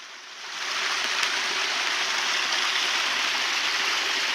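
Rainwater rushes down a hiking trail after a heavy rainstorm, a steady broadband roar like a stream or small waterfall, loud and close, rising in the first half second and then holding constant with no talk.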